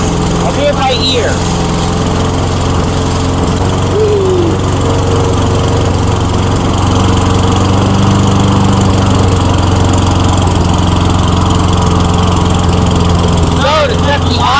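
A lawn mower engine idles steadily after being restarted, a continuous loud drone running the whole time, with brief higher revving sweeps near the start and end.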